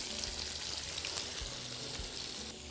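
Flour-dusted tilapia frying in a pan of hot oil gives a steady, dense sizzle and crackle that runs unbroken and fairly loud the whole time, with no voices.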